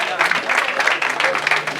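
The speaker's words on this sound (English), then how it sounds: "Please round of applause again for the Chancellor." An audience at a university inter-hall opening ceremony applauds the Chancellor with dense, sustained clapping that stays loud and even throughout, with faint crowd murmur underneath.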